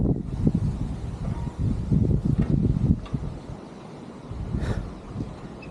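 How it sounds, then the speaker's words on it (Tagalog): Strong wind gusting across an open hilltop, a steady low rumble of buffeting that swells and eases over several seconds, close and fairly loud with no voices. "Ang lakas ng hangin."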